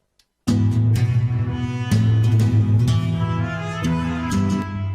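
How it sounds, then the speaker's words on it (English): Bright trumpet melody in a mariachi style rings out over a band accompaniment, loud and upfront after a brief silence. "a Spanish kind of mariachi trumpet to that."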